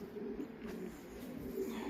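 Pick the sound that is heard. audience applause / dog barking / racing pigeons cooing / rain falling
racing pigeons cooing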